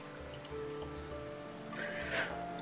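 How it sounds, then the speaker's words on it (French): Rain falling in the city-building video game Foundation, a soft, steady patter of drops under a low ambient game backdrop, faint and continuous with a slight swell near the end. "c'est chiant ces intempéries, on voit rien quand il y a de la pluie"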